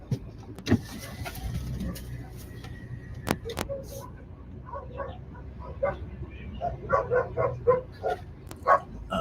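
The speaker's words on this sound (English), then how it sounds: "Police dogs in there." Several police dogs bark in short bursts at a distance during a riot in Ely, Cardiff, amid traffic and engine noise, with people talking nearby.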